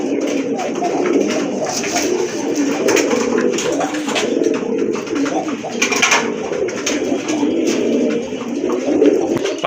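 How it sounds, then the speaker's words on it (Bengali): Large fancy pigeons with crests, feathered feet and breast ties coo steadily and close by, several birds overlapping in a continuous low murmur with some faint rustling throughout. "বুঝতেই পাচ্ছেন কত বড় সাইজের কবুতর।"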